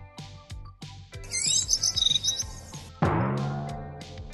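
A voice imitates bird chirping in a French animated children's show, a quick series of high squeaky tweets and warbles over a plucked, rhythmic music bed, followed by a sustained low musical swell.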